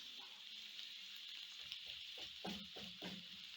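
Vegetables fry in a pan while cooking pilau, giving a quiet, steady sizzle with soft stirring scrapes near the end, and no one speaking.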